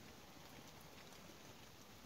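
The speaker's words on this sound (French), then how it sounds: "Alors ça pleut pas à grosses gouttes, mais ça pleut." Light rain falling outdoors at a woodland cabin build site, a faint, even hiss of fine drops with no other sounds.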